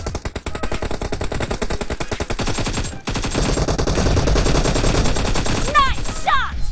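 Continuous automatic gunfire roars through a PUBG match, a dense rattling stream of shots that stays loud throughout, with faint chirpy game effects near the end.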